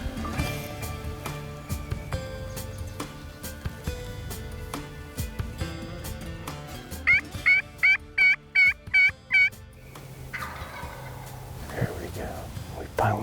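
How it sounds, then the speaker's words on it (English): A wild turkey gobbler gobbles in spring woods, a series of about seven rhythmic calls in the middle of the clip, fairly clear over background talk and noise. "Finally got this gobbler to sound off."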